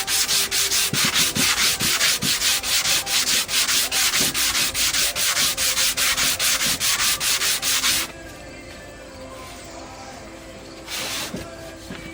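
An abrasive pad scrubs a glued, restored wooden bowl in fast, even back-and-forth strokes for about eight seconds, loud and close, then stops, leaving a quiet room with one brief faint scrape.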